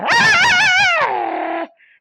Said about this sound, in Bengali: রাস্তাঘাটে কি অবস্থা, কুকুরে কি করে কি মারপিট করছে।